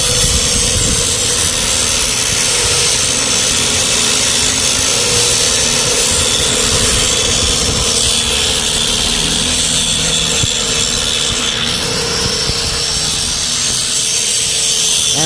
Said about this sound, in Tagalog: nililinis siya, nililiha